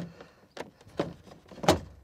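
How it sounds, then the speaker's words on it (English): A Ford F-150 door panel is pried off with a series of close plastic clicks, creaks and knocks, ending in a louder pop as the door handle comes loose. "And now the door handle is popped loose."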